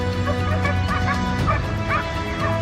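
A pack of hunting dogs bays and yelps excitedly on a wild boar hunt, dense overlapping barks and whines close and loud over a constant engine-like drone.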